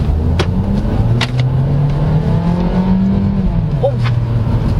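A 2019 Kia Forte LX with automatic transmission pulls at full throttle, its engine droning steadily and rising slowly in pitch from inside the cabin, loud and continuous, with a few faint clicks over it.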